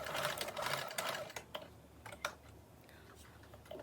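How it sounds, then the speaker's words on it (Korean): A sewing machine stitches the folded shoulder straps of a slip dress 0.2 cm from the edge, heard as faint, uneven bursts of mechanical whirring and clicking in a quiet room. "먼저 어깨끈을 봉제합니다."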